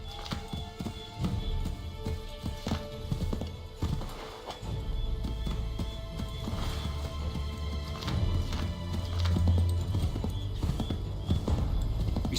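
Hooves clip-clop in quick, uneven beats as a horse moves in an Assassin's Creed III game scene, the hoof strikes layered over game ambience and low rumbling.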